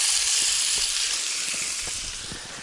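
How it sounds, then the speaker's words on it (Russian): Meat sizzles loudly as it fries in a pan on a cookout on the ice in the taiga, a dense bright crackling hiss with faint stirring knocks underneath, close and steady. "Ставим на обжарочку."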